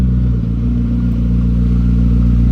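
A McLaren P1 GTR supercar engine drones low and loud at close range, holding a steady throbbing rumble for a couple of seconds with no speech.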